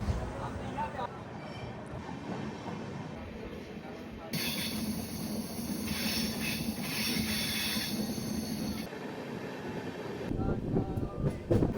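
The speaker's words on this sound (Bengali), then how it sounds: "তো আমাদের ট্রেন এখন পুরো ডুয়ার্সের জঙ্গলের মধ্যে দিয়ে যাচ্ছে।" A passenger train running slowly through the Dooars forest, heard from inside: a steady, moderately loud rumble of wheels and carriages with faint squealing, continuous throughout with some brighter hiss midway.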